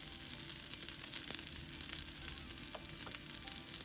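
Okra browning in a pan for a Navratri lunch, frying with a steady dense crackle and fine sizzle throughout, close and even, with a few brief spatters and no talk.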